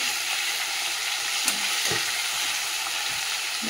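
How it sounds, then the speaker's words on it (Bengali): Fish bones fry in hot oil in a pan, a dense continuous sizzle with scattered crackles and pops, close and steady throughout. "চলো মাছের কাঁটাগুলো ভেজে নিয়ে যাবে। দেখো বন্ধুরা, একদিকে ভাজা হয়ে গেছে, আর একটা উল্টে দিচ্ছি। কাঁটা তো ফাটছে"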